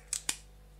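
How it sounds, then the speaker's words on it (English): Plastic joints of an MMC Shadow Ghost Calidus transforming figure clicking into place: two sharp, close clicks in quick succession, then a fainter third tick, with no talking. "those are going to click back into place"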